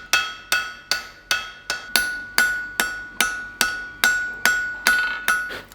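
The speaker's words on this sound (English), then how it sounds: "I'm going to put a series of hammer marks on here" A hammer strikes a round steel bar in a steady series of about thirteen bright ringing blows while a blacksmith textures the bar during forging, close and clear with no talk.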